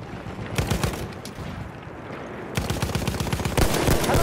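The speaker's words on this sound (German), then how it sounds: "Maschinengewehr!" Rapid machine gun fire in Battlefield 1 combat, loud and close, with dense bursts of rattling shots, a brief lull of scattered fire, then sustained automatic bursts resuming strongly.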